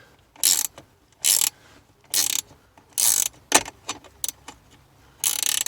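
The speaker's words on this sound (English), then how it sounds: "Excuse to use my new ratchet spanners again." Ratchet spanners click in a string of short, sharp bursts during a USB and cigarette charger installation in a Ford Fiesta, close up and separated by brief quiet gaps.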